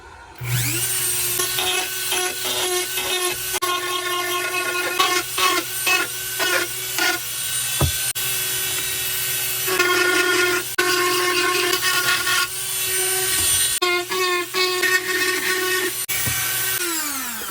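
A Dremel rotary tool fitted with a Cuts All bit carves a wooden walking stick, giving a steady high motor whine with repeated rasping bursts as the bit bites into the wood, loud and close with no talking.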